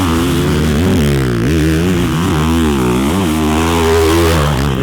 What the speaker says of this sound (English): Going wide open on a 450 on a sand track, that'll wake you up for sure.